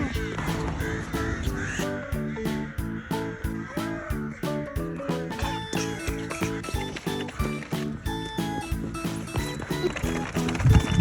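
Rhythmic, harsh cawing from a crow repeats throughout, loud and close, over a steady busy background with a regular clattering beat.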